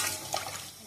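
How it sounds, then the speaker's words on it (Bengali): Water poured into a pot of braised potatoes as they start to boil, a steady close splash and trickle lasting under a second. "এখন জল দিয়ে দিচ্ছি।"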